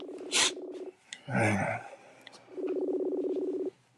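An outgoing phone call rings out: two stretches of loud, buzzy, pulsing ring tone, separated by a brief noisy burst.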